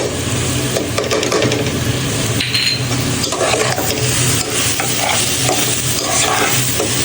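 Cabbage frying in a pan with a little cut naga chili, giving a loud, steady hiss and crackle close by, with intermittent scraping and stirring throughout and no voices.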